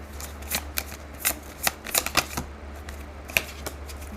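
Tarot cards being shuffled by hand in quick irregular riffles and flicks, crisp papery bursts close up in a quiet room without speech.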